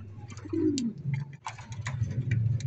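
Pigeons or doves coo softly near a nest of newly hatched chicks, low murmuring calls repeating close by with a few faint clicks and rustles.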